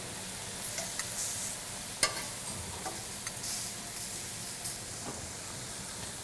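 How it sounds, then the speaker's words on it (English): Shrimp grilling beside cooking chard, a soft steady sizzle with a few faint clicks and taps as the shrimp are turned, fairly quiet and with no talking. "I've got some nice marks on one side of my shrimp. Let me turn my shrimp."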